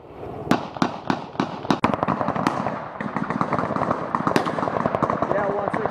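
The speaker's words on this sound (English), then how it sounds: "Can you see the enemy that's shooting at us?" Combat gunfire from enemy fighters, loud rapid cracks and bursts in a quick irregular rhythm, continuing under voices speaking over a radio.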